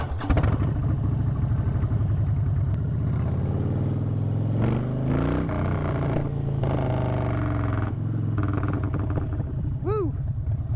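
Loud Harley motorcycle engine rumbling and revving on a ride after a storm, with throttle swells rising and falling near the microphone and a brief whistling sweep near the end.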